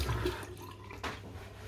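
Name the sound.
water splashing while wetting the face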